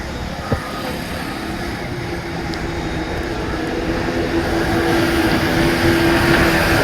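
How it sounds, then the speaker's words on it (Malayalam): A boat motors across a backwater lake near Muthalapozhi harbour in Kerala, its low engine drone steady and continuous, swelling slightly louder toward the end over a wide open-air hiss. "ഒരു ബോട്ടൊക്കെ പോകുന്നു"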